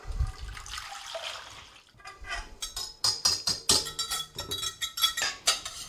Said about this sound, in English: Then I'm going to add the milk.